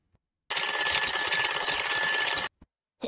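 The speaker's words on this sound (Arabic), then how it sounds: "منبه ايه اللي بيرن دلوقتي" An alarm clock rings loudly and continuously for about two seconds, then stops abruptly, followed by a couple of faint small knocks.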